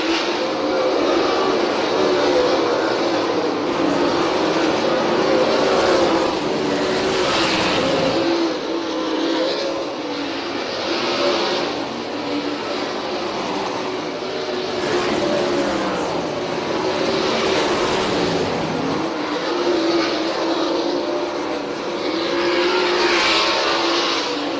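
410 sprint cars race at the Selinsgrove dirt track during its 75th anniversary event, a loud steady roar of many engines running close together, swelling and fading as cars pass, with no talk.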